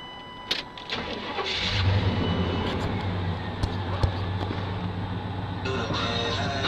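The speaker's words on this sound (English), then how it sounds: "Go ahead and start it up for you." Stock 350 V8 in a 1989 Chevrolet C1500 pickup cranks and fires, then settles into a steady, fairly loud idle with a low rumble that runs to the end.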